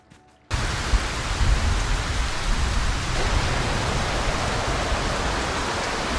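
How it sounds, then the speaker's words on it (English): Heavy rain and storm at sea in the video game Ylands, a loud, steady broadband roar of downpour and wind that starts abruptly and continues unbroken. "This game is so loud in a storm, it's amazing."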